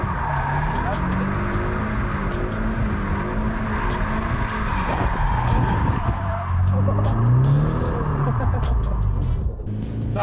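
A Nissan S15 Silvia drifts with loud, sustained tire skidding and squeal over a strained, revving engine, the slide swelling and easing through the clip while someone talks over it.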